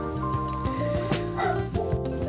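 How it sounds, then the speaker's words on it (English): A dog barks and yips close by in several quick, loud bursts, with a whimpering edge between barks in a home where watercolor painting is underway. "now that the dog has stopped barking, we can continue"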